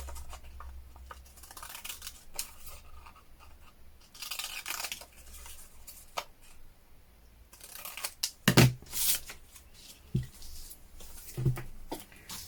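Scissors cutting paper for an autumn art journal page, quiet scattered snips and rustles with a few sharper close cuts near the middle, heard alone.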